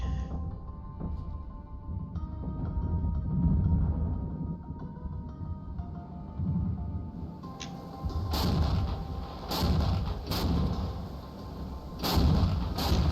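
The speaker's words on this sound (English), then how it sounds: "There's a counter battery. And that's where they're firing from." Counter-battery artillery fire in the war game Regiments, with distant rumbling booms throughout and several sharper, louder shell blasts in the later seconds.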